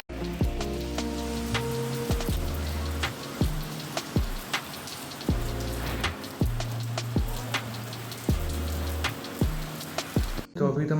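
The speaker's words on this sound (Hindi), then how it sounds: "और बाहर आ गई है बारिश" Rain pours steadily outdoors with a constant hiss, while sharp drips and taps land on a nearby surface at irregular intervals and low thuds recur underneath throughout.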